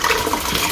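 Boiling water pours into a pot of rested maize for granillo atole, a steady close splashing and gushing of liquid running through the whole short stretch with no talk.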